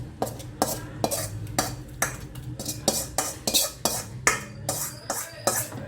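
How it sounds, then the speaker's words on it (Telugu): A spoon stirs homemade masala into cooked dal in a metal pot for chamakura pappu, clinking against the sides in a steady series of sharp scrapes and taps, close and clear, about a dozen strokes. "అది ఈ పప్పులో కలపాలి ఫ్రెండ్స్."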